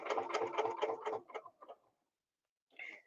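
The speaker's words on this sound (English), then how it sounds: "I'm going to stitch up to my 45-degree angle, and I'm going to stitch back down" A sewing machine stitches a quilt with a fast, close mechanical chatter that slows into a few separate stitches and stops, then after a pause a brief whir starts up again.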